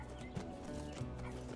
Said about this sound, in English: And your horse can sprint or gallop.